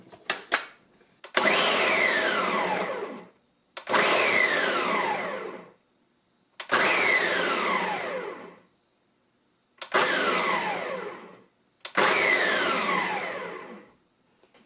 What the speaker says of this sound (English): For the pulse function, you do have to press and hold it for the blender to run.